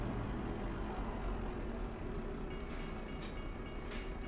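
A train rumbling past in the Euro Truck Simulator 2 video game, a dense, steady roar of wheels and cars close by, with a few brief hissing bursts near the end and no talk.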